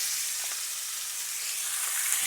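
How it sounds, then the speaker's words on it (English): Cajun lime chicken thighs sizzling in oil in a pan, a loud continuous hissing crackle with no pauses and no voices. "You want to hear that sizzle."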